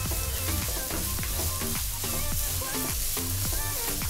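Medium-sized onion, finely chopped, fries in a hot pan with a loud, dense, unbroken sizzle. Close spatula strokes repeatedly scrape and stir it.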